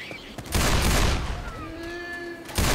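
Gunfire in the Left 4 Dead 2 zombie shooter game, a loud rapid burst of shots followed by ringing tones and a lingering roar, with voices talking over the action.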